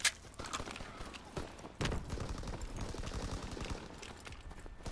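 A PPSh submachine gun firing in the video game Call of Duty WW2, rapid bursts of automatic gunfire with short gaps between them, fairly quiet in the mix.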